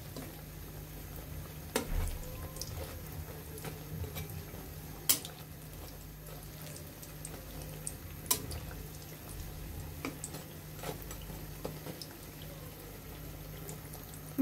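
Eggplant fritters (beguni) frying in a pan, a steady low bubbling sizzle with scattered drips and sharp pops throughout, heard close with no talking.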